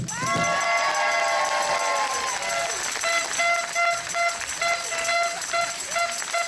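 A live audience at a Plus belle la vie finale event in Rochefort and Saintes cheers and shouts in a steady, dense roar, with sustained horn-like tones ringing over the crowd throughout.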